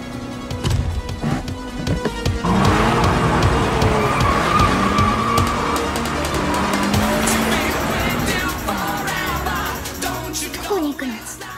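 A car driven hard down a mountain road, engine revving loudly with repeated tire squeals and skids sweeping up and down in pitch, close and intense over several seconds.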